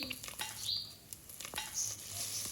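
Mustard seeds, urad dal, chana dal, cumin, curry leaves and dried red chillies sizzling in hot oil for a flat bean curry, a soft crackle with scattered popping and stirring scrapes, fairly quiet and without talk.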